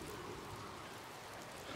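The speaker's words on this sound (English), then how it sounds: "It sounds like it's raining." Faint, steady patter of rain in a video game, a soft continuous hiss with no voices over it.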